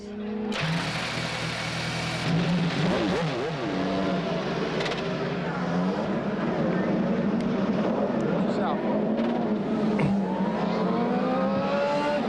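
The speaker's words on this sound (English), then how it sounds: "start your engines!" 1998 CART race cars fire up and rev at Mid-Ohio Sports Car Course, several engines roaring loudly together with rising and falling revs and sharp throttle blips, while an announcer talks over them.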